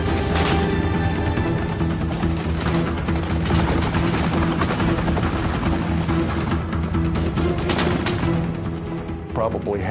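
A Black Hawk helicopter during a Ranger fast-rope insertion under fire: a loud, close, churning rotor roar fills the whole stretch, with sharp cracks like gunfire bursting through it.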